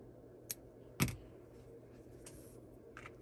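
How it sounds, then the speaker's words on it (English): Scissors snip a yarn tail after seaming a crocheted sunflower bag: one faint, crisp cut near the middle and a lighter click just before it, all very quiet with no talk. "go ahead and pull through and cut your tail"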